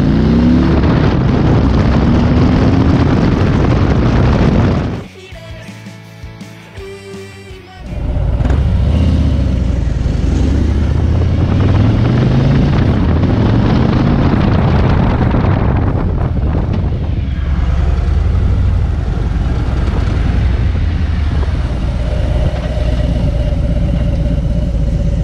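A stock-exhausted 2020 Indian Challenger motorcycle engine rumbles loudly and steadily while riding, with heavy wind noise over the microphone and a brief dip partway through before the engine drone returns.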